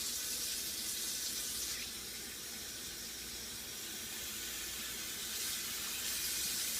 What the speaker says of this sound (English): we'll just fill this up with some water